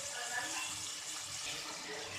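Boiled mash dal pours into a pan of fried masala with a steady, wet, splashing wash of liquid that stays even and close throughout, no voices over it.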